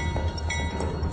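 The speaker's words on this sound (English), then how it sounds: "The world's longest, most extreme train." An iron ore freight train in Brazil rolls past with a steady low rumble and faint metallic clatter of wagons, continuous and fairly loud, without talk.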